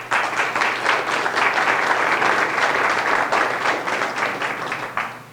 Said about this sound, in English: She gets applause and I didn't get any?